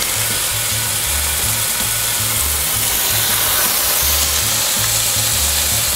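Turkey burger patties sizzle steadily in a hot frying pan, a dense continuous crackle with a low intermittent rumble underneath, close and fairly loud with no talking.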